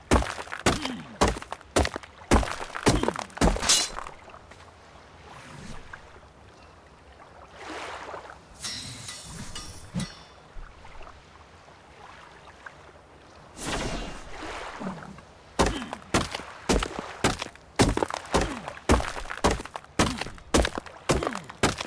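Repeated blunt thunks of stone being mined in a survival crafting game on an Anvil Ark server, coming in quick rhythmic bursts at the start and end with a quieter stretch in between.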